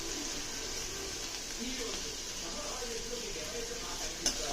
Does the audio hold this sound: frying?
yes